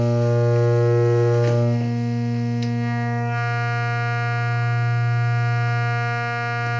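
A steady sine tone from an oscillator on a Hordijk modular synthesizer, shaped with added harmonics into a loud, constant buzzing hum. A brighter upper layer drops away partway through while the base tone continues unchanged.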